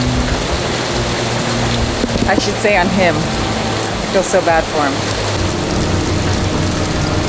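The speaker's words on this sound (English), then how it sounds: "And the rains just opened up on it." Heavy rain pours down on a boat while its engine cooling system is flushed, a dense steady hiss of falling water throughout, with a person talking briefly over it partway through.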